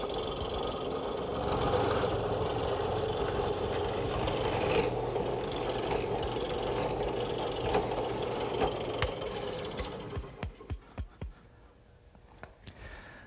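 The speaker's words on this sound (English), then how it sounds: "now with the mortising attachment, which I'm going to use to mortise a hole in the top of each foot" Drill press with a mortising attachment boring a square mortise into a wooden foot, a sustained grinding, rasping whir with a motor hum that winds down into a few sharp knocks and clicks at the end.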